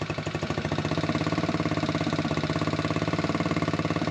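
Buggy engine idling after a timing and air adjustment, a steady rapid chugging pulse, loud and close, running alone without voices.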